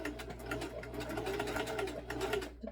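A Jiasew sewing machine stitches a European hem on jean fabric, a close, steady mechanical whir with rapid needle chatter lasting nearly three seconds at low to moderate volume.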